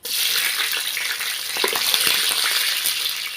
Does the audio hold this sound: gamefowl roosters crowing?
no